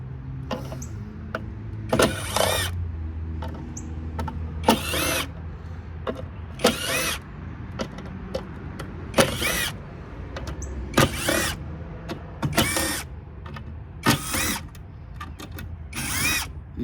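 A power drill backs screws out of an MRI power supply during a teardown, with repeated short whirring bursts separated by pauses and small handling clatter, close and fairly loud.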